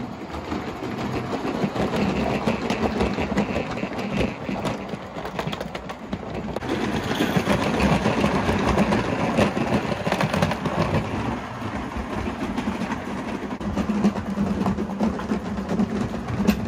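An Accucraft model locomotive runs steadily along its track in an evening session, giving a continuous rumbling, rattling roll at even loudness throughout.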